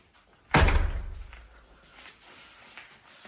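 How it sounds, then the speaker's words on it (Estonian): A door swings shut with a single solid thud close by, its low-heavy impact ringing out and fading over about a second before quiet room noise returns. "Kas ma panen ukse kinni?"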